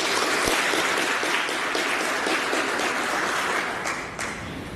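An audience at a university conference gives a sustained round of applause. The dense clapping is loud at first and gradually thins and fades over nearly five seconds.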